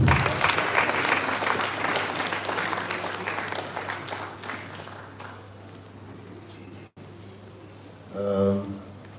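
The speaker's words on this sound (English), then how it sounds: "Please clap for yourselves." Audience applause fills a hall at an annual lecture and postgraduate conference of a school of environmental technology, loud and dense at first, then thinning and fading over several seconds before a brief voice at the end.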